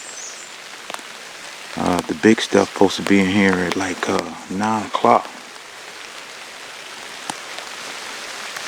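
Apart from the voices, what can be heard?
light rain falling in the woods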